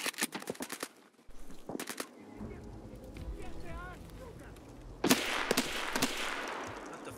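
Gunfire in the Escape From Tarkov shooter game: several sharp shot bursts early, then a louder sustained volley near the end, with players talking over game ambience between them.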